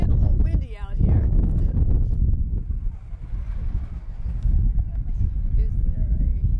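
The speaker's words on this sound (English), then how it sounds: "it's getting a little windy out here." Wind gusts outdoors at the White House Easter Egg Roll, a loud, low, buffeting rumble battering the microphone throughout, with a brief voice at the start.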